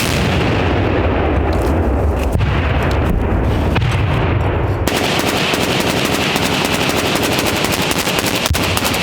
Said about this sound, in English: So as the crossfire fire starts, it becomes louder and louder